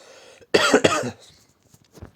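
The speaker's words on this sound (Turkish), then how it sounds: "Hala görüyorsunuz arkadaşlar öksürük hali falan." A person coughs twice in quick succession, close and fairly loud, followed by a faint softer throat sound and quiet background.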